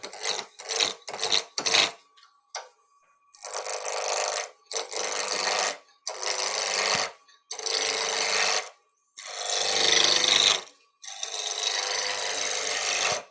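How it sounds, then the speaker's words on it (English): A turning tool cuts wood on a lathe, heard as repeated loud, rasping bursts of a few seconds each with short pauses between, close and alone with no talking. "Anchor the tool, handle down low, ride the bevel, lift the handle till it cuts."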